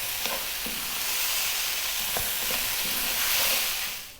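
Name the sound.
stirring fried rice with spring onions in a pan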